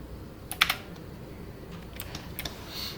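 Keys on a computer keyboard are pressed while modelling a hand in ZBrush, producing a few light clicks in small clusters, close but soft, with no speech.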